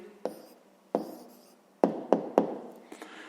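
A pen writes an answer on paper in a quiet room, a few sharp taps and short scratchy strokes spaced unevenly over a few seconds, close and soft with no talking.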